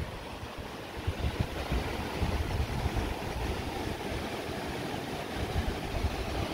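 Water pouring down from a height beneath a bridge on a jungle trek near Namaste Jharna, Bhedetar, a dense, steady rushing roar close by with no voices.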